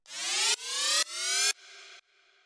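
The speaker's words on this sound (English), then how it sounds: "Next thing we have here is this operator little like effects rising sound" Three loud synthetic FM upward sweeps repeat in quick succession, followed by two quieter, duller tones that fade out.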